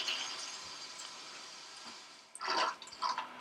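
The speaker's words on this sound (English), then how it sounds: "let's see if we can get this bidet thing here demonstrated for you" A Sotomo smart toilet's bidet sprays water with a steady hissing rush, then some splashing and dripping sounds close by, with no one talking.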